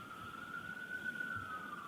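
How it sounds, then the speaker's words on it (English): A siren sounds from video footage played back at a trial, a faint, steady high wail that holds its pitch over quiet room noise. "Always sirens."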